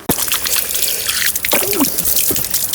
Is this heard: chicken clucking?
no